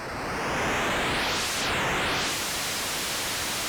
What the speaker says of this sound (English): it's just making it like less dense white noise